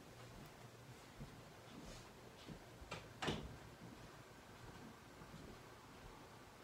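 A bedroom door swings shut indoors with a single soft thump midway through, faint against a quiet, hissy room with no voices.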